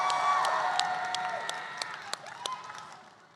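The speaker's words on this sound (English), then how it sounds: "One more big round of applause for that." Fans at a Kamen Rider franchise panel in Japan give a big round of applause and cheers, dense clapping with sharp individual claps that gradually fades.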